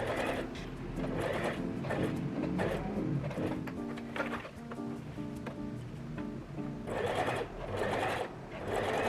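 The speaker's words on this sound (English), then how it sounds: "I just need to sew on top." A sewing machine sews a patch pocket onto a floral coat, humming and rattling loudly and steadily up close through most of the stretch, with a brief slowdown midway before speeding up again.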